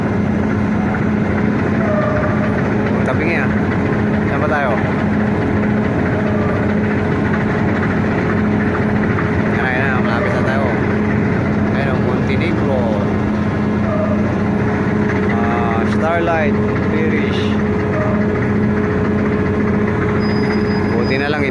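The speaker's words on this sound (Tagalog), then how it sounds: "ganyan pala magparadang barko" A docking ship's engine drones in a steady, loud low rumble with a constant hum that runs unbroken throughout, while people talk over it.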